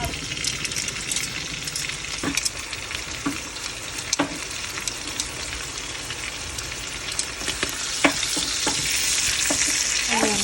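Steak frying in butter, a dense, loud, hissing sizzle that runs throughout, with scattered crackles and pops and no voices.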